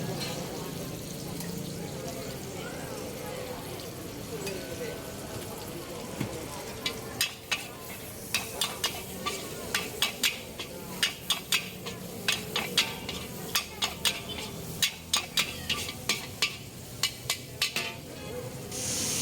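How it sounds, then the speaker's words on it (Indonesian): Shallots, crushed garlic, tomato and spring onion sautéing in a pan at a street noodle stall, with a steady sizzle, scraping stirs and quick metal clinks growing busier over a background of nearby voices and bustle. "Ini ada bawang merah, bawang putih digeprek, tomat, sama daun bawangnya. Nah, ditumis seperti ini."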